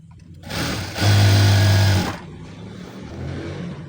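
A sewing machine stitching the sleeves of a dress runs in a steady mechanical whir, nearby and loud, speeding up into a faster burst for about a second before stopping.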